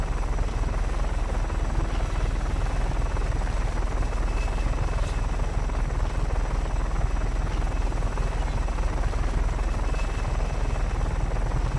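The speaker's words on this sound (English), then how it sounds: "I should destroy that goddamn helicopter" Continuous whirring rotor drone of a helicopter in the video game Just Cause 3, loud and unbroken, with a constant buzzing hum throughout and no voices.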